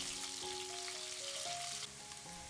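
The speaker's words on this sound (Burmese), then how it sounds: "စီလေးပူလာပြီဆိုတာနဲ့ကြက်သွန်နီးအရင်ဆုံးထည့်ကြောပေးပါမယ်။" Onions hit hot oil in a pot while a butter bean curry is being cooked, producing a steady, dense sizzle with faint tonal background sounds.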